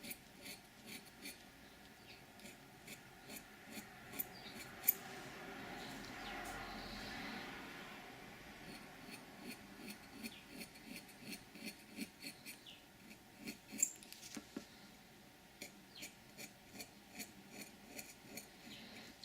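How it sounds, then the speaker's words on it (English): Knife scraping the tip of an oboe reed, faint repeated short scratching strokes in a quiet room, soft and close with small ticks between strokes. "still with the knife at a 45-degree angle, and I'm going to scrape out towards the top corners."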